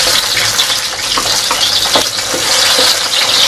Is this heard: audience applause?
no